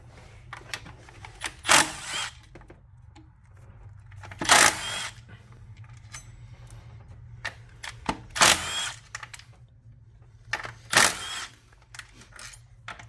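A power driver spins out 10 mm bolts from the intake of a Kia Sorento/Sedona 3.3L GDI engine, four separate short whirring bursts spaced a few seconds apart, close and loud, with quiet handling noises between and no speech.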